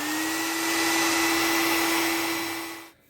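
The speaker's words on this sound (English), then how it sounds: "We'll just plug our hair dryer in right there" A hair dryer blows steadily with a loud whooshing hum and a constant motor whine, then cuts off abruptly near the end.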